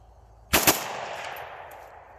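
A 9x39 AR pistol fires two rapid unsuppressed shots outdoors, a loud sharp crack-crack pair followed by a long rolling echo that fades over about a second and a half.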